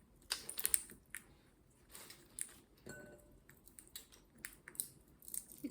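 A parrot cracking and crushing nuts, a series of sharp close crunches and clicks coming in irregular bursts over a quiet background.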